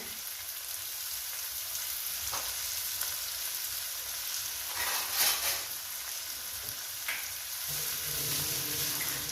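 Food sizzles and fries steadily in a pan, salted and stirred, with an even hissing crackle the whole way through. An occasional scrape of stirring sounds over it, and nobody speaks.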